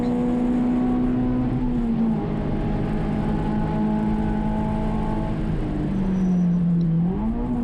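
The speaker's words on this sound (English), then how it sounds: "And I skip a gear. I heel toe and double clutch." Race car engine at Portland International Raceway droning steadily from inside the cockpit, its pitch falling and then swooping back up as the driver skips a gear with a heel-toe, double-clutch downshift. No talking.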